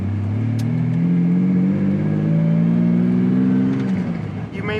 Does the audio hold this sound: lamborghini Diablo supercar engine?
yes